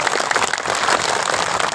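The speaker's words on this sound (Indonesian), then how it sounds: "Tepuk tangan bagi kita semua." A large crowd at a mass sholawat gathering of Banser and PSHT members claps in dense, continuous applause, loud and close for a short burst.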